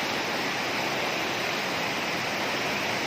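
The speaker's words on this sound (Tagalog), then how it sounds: "tingnan na tubig guys. Super duper na baha." Floodwater rushing under a bridge, a constant broadband roar of flowing water, loud and unbroken with no voices.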